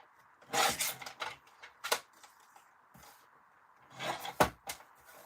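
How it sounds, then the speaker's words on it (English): A small piece of card just under an inch wide is cut in a crafting session, giving a few separate scraping, rasping strokes in two bursts with quiet gaps between, close and moderately loud, with no talking. "I'm just going to cut myself a little bit of card."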